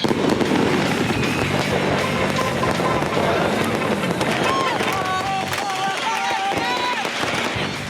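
Fireworks and firecrackers go off in a crowded square in Libya, rapid crackling bursts mixed with whistling rockets and crowd noise, loud and continuous with voices shouting throughout.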